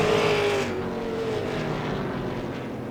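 Late model race cars racing at Langley Speedway, a loud engine roar that passes close and then fades into a steady droning pack as the cars head into the turns.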